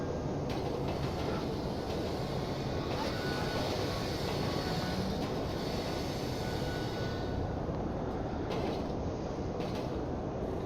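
A train ride in Grand Theft Auto V gives a steady, dense rumble of wheels and carriage with faint creaks and rattles, continuous and fairly loud for the whole stretch, with no talk.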